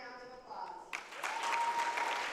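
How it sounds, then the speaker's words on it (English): A crowd at a high school wrestling meet applauds senior wrestlers, clapping rising from scattered hands to a full, steady round after a voice trails off on the PA. "Please give them one more round of applause."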